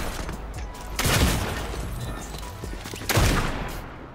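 Two sniper rifle shots in Fortnite, each a loud booming crack with a lingering tail, spaced about two seconds apart over steady game background noise.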